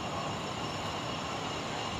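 Steady rumble of a train running, heard from inside a passenger car, a continuous broadband hum and rattle holding evenly throughout without talk.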